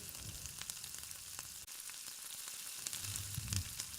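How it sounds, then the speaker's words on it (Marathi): Water bubbles and sizzles in a kadai, a continuous crackling simmer with scattered pops, fairly quiet and close, no talking. "छान अशी उकळी आलेली आहे."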